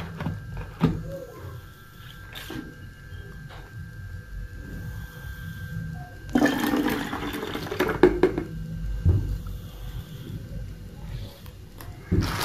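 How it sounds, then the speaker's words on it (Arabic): A quarter cup of water is poured into a glass bottle that held rose water, a short splashing trickle heard faintly and close, with quiet room noise around it. "هضيف لها ربع كوبايه الميه"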